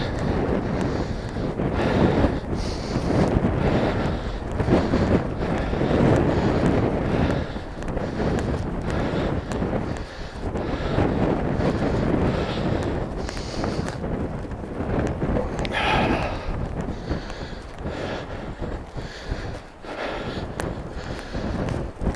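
Strong wind of about 17 meters per second buffets the microphone outdoors on Iceland's Golden Circle, a continuous loud rushing roar with gusty swells and no clear talk.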